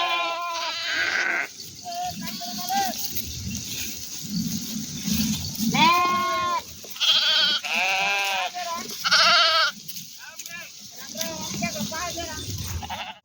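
Sheep from a flock of about 150 bleat in several loud, wavering calls near the microphone, with someone talking in between the bleats.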